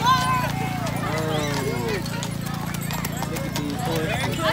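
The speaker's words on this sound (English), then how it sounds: "Look at these horses." Horses clip-clop along a street in a Christmas parade, hooves striking in a steady rhythm beneath loud crowd chatter and excited voices talking nearby.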